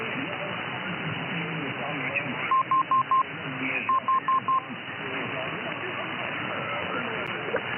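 Two quick bursts of telephone DTMF dialing tones, four beeps each, cut through a continuous radio broadcast with a talking voice running underneath.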